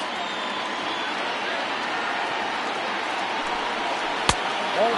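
A crowd of about 26,000 at a Pacific Coast League baseball game rises to its feet. The cheering is a steady, dense roar from start to finish, with a single sharp crack near the end.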